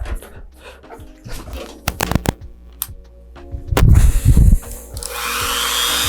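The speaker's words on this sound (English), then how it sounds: "So what I have here is a drill" A power drill used while repairing a broken model rocket fin with epoxy spins up in short bursts, then runs louder and close, with a steady high whir toward the end.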